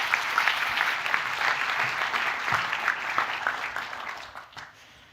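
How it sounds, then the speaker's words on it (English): Warm, steady applause from a seated audience at the Nordic Happiness Summit welcoming speaker Alberto Prati, a continuous wash of many hands clapping at even loudness that tapers off slightly at the end. "accompanied by a warm welcoming applause"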